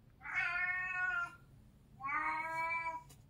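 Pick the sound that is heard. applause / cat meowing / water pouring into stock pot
cat meowing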